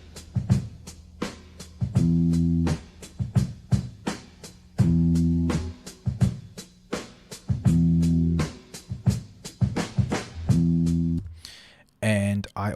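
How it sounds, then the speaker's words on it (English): Bass and drum sample looped in FL Studio: punchy kick and snare hits in a steady beat with recurring deep bass note phrases, fairly loud, ending with a short burst of other sound. "The other sample that I used was actually for the bass and the drums"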